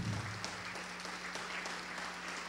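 A church congregation applauding during a service: steady, fairly faint clapping from many hands throughout, with a low hum underneath.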